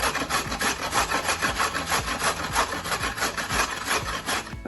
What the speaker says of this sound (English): we are just gonna grate them